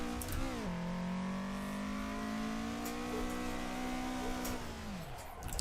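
A racing video game car engine drones steadily while drifting, its pitch rising, holding level and then dropping away near the end, loud and close with no voices over it.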